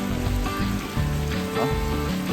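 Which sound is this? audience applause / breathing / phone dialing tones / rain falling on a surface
rain falling on a surface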